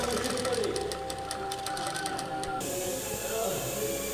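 Electric sewing machine stitching a sleeve lining, a steady fast mechanical whir with rhythmic needle clatter running continuously and close, with a faint voice underneath.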